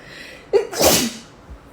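One sharp, close sneeze with a quick intake and a loud burst, then quiet.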